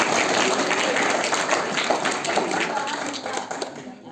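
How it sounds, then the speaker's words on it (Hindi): Audience applause at a school debate competition in a hall, a steady wash of clapping that starts loud and gradually thins out toward the end. "तो एक बार में जो तालियां बजा दीजिए।"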